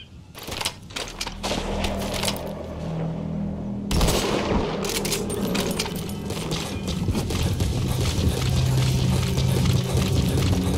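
Heavy gunfire and explosive booms from combat in Metal Gear Solid V during a sniper fight, loud and dense, with a sudden burst of blasts followed by sustained rumbling fire and ambient noise.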